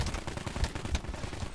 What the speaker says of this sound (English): These shots are coming from over here.